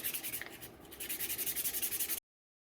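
Hand sanding of a maple burl smoking pipe with 150 grit sandpaper, a close, steady run of rapid back-and-forth scratchy strokes that cuts off abruptly.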